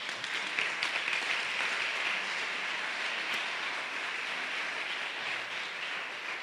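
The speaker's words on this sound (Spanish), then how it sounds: "Denle un aplauso al Señor" A church congregation applauds the Lord during a service, a dense, steady wash of clapping from many hands that sounds somewhat distant and holds evenly for several seconds without voices.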